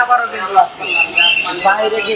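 A parrot at a pet and aquarium shop lets out a few short, harsh squawks and whistles in close succession, with faint voices and shop noise around it.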